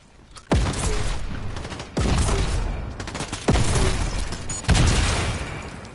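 Four loud blasts from grenades and gunfire in Fortnite, each one a sharp boom followed by a rumbling, crackling tail. They land about every one and a half seconds and stay close, with no talking.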